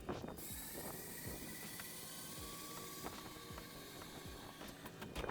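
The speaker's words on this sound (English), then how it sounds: "Close our starboard hatch." A starboard hatch on a yacht is closed with ratcheting mechanical clicks and clunks, close and moderately loud over a steady machinery hum, with no voices.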